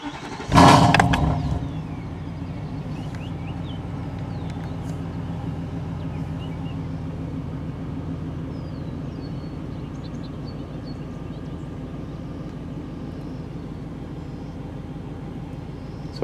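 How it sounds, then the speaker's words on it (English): Nissan Titan pickup engine cranking and catching with a loud brief burst, then settling into a steady low idle hum that runs on evenly. "Start the engine and idle for 20 seconds."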